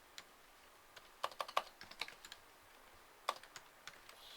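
Someone types code on a computer keyboard, tapping the tab key, with scattered close key clicks arriving in an irregular rhythm and small clustered bursts, quiet and alone.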